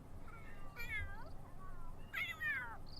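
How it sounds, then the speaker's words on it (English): A cat meows twice, two drawn-out wavering cries about a second apart, fairly close against a quiet indoor background. "he's mewing outside my door because he wants to get in"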